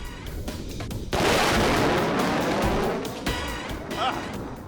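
Five sonic booms strike a house, a car and glassware from an aircraft passing at 200 feet, arriving as a sudden loud broadband blast that sustains and rumbles for a few seconds before easing off, with a voice faintly present.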